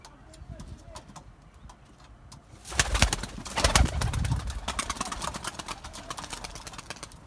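Pigeons coo softly in the background of a flight coop, then a burst of fluttering and rustling noise as new birds take off picks up midway and continues.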